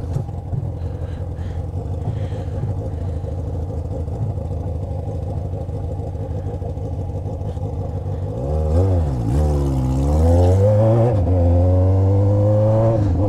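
Yamaha XJ6 motorcycle with a straight-pipe exhaust idles loud and close with a raspy rumble, then revs in several sharp rising and falling bursts.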